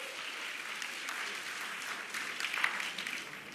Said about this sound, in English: A round of applause for everybody here.